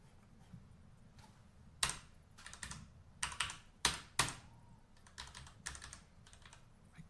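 Someone types on a computer keyboard that has grit caught in it, with a few sharp, loud keystroke bursts among softer clicks, close-up over a faint background hum.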